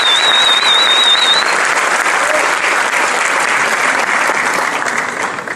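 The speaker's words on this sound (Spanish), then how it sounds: "Démosles un aplauso apoteósico a estos niños" An audience at an educational event gives loud, sustained applause for children. A high whistle cuts through at the start, and the clapping stays thick before easing slightly toward the end.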